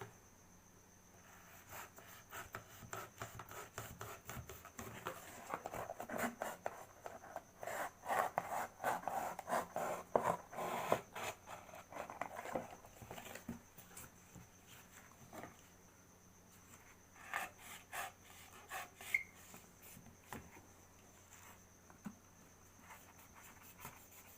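Scissors or a blade work through cardboard for a craft, giving a long run of soft, rapid rasping cuts at close range. A steady faint hum sits underneath, and no one speaks.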